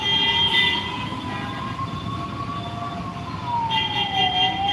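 An ambulance siren wails, rising and falling steadily over a constant low rumble of traffic in Kottiyam, Kollam, sounding close and fairly loud throughout.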